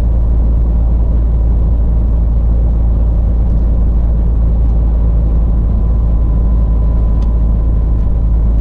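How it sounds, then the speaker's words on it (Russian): A Scania truck engine pulls uphill in 12th gear, a loud, steady low diesel drone with constant rumble heard from inside the cab, no talk. "Scania заходит здесь, даже с двадцаткой на 12-й передаче"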